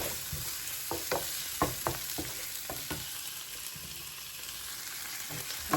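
Chopped onions and tomatoes fry in a pan with a steady, close sizzle, broken by a run of sharp spatula scrapes and stirs in the first three seconds and another near the end. No one speaks.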